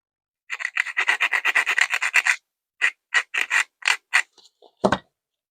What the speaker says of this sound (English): When I'm filing or buffing, I'm going to the front, okay?